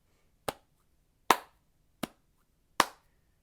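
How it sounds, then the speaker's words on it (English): Four single cupped-hand claps, close and loud, each a deep, hollow smack spaced unevenly apart with silence between them. "But just try a nice cupped, slightly more bassy clap."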